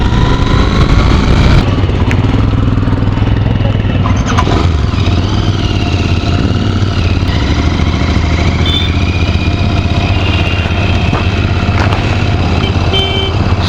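A Royal Enfield riders club sets off on a Sunday group ride. Loud, steady motorcycle engine rumble fills the whole stretch, with rising revs and passing bikes and no talking.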